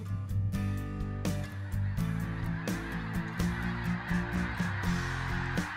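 Specklebelly geese flying in Arkansas give a dense, continuous chorus of loud honking calls, many birds calling at once in overlapping rhythm with no voices present.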